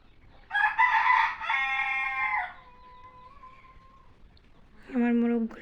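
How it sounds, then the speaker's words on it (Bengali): Roosters crow nearby: one long harmonic crow, a fainter trailing call, then a second loud crow near the end. "আমার মোরগগুলো ডাকতেছে,"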